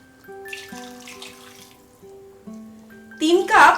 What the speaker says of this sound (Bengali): ফুটন্ত গরম জল আমি দিয়ে দিচ্ছি।